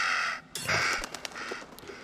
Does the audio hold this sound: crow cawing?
yes